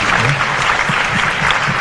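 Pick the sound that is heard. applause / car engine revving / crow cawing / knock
applause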